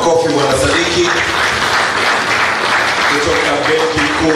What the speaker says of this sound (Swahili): naomba tumpigie tena makofi Bwana Sadiki